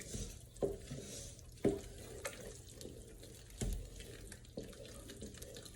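Mashed potatoes being mixed in a bowl, soft wet churning with a few sharper knocks spaced about a second apart, faint and close, no voices.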